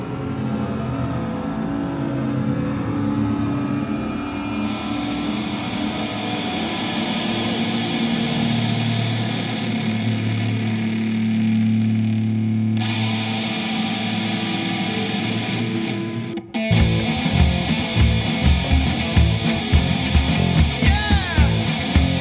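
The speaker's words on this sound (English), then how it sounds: "Let the engine run." An engine runs steadily for about sixteen seconds with a rising, whirring drone, then gives way to a sharp, dense burst of rattling, buzzing noise near the end.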